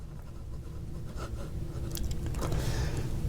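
A small vintage extra-fine fountain pen nib writes on paper, a steady, close, soft scratching that continues throughout and grows slightly louder as more pressure is applied, with no voices.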